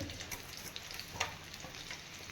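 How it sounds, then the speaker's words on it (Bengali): Potatoes sizzle in hot oil for a duck egg curry, a steady dense crackle with small pops throughout, close and continuous with no voices. "এবারে দেখো আমি আলুগুলোকেও ভেজে নিচ্ছি"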